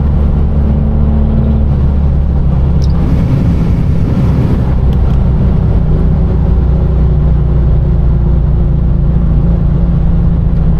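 A 700-horsepower supercharged Infiniti G37 pulls hard down a back road, its engine a loud, continuous low drone that swells and roars under throttle with rushing wind noise throughout, heard from inside the car.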